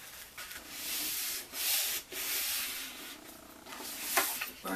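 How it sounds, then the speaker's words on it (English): Steady rubbing and sanding-like scraping as a fold on a giant paper greeting card is burnished flat, in several close, continuous strokes with brief pauses between them. "Burnish this down really good."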